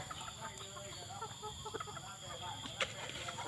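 White bantam chickens, one of them moulting, cluck faintly and intermittently in a quiet yard, with scattered short calls over a low background hum.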